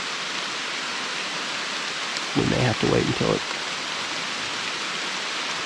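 Heavy rain falling in Alabama woods on opening weekend of the hunting season, a steady hiss that fills the whole clip, while someone briefly speaks in a low voice in the middle.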